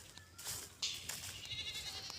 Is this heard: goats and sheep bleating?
yes